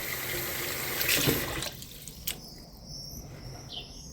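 Mung bean sprouts are washed under a running kitchen tap, a soft rush of water that splashes for a moment and then quietens, with faint crickets chirping in the background.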